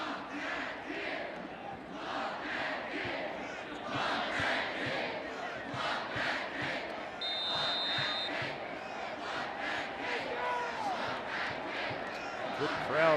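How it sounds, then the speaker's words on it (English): Large stadium crowd at Reynolds Razorback Stadium during a Mississippi State vs Arkansas college football game, a steady roar with rising surges of cheering and yelling, heard throughout and swelling near the end. "Good crowd here at Reynolds Razorback Stadium that would love to see their Razorbacks win an SEC game"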